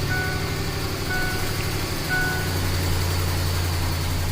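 A 2007 Ford F-150 4x4 with a 4.6L engine and an ignition-circuit misfire idles steadily and close by, its low continuous hum running alone through the whole stretch.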